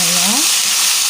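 Palm weevil larvae fry in a pan on the stove, a loud continuous sizzle while a utensil stirs them, with a brief scraping squeak against the pan near the start.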